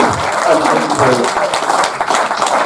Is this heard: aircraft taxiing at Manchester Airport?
no